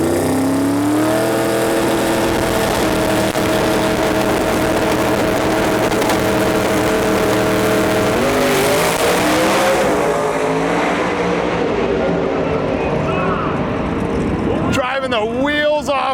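A drag race car accelerates hard down the strip on the first pass of the day at a drag-and-drive event, its loud engine note climbing through the gears over crowd and PA noise, with a track announcer talking.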